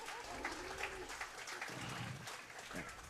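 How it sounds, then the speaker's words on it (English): Audience at a county fall fair beef showmanship show claps steadily in a sustained, moderately faint wash of applause. "Let's give these 6 youngsters a great round of applause in this heat."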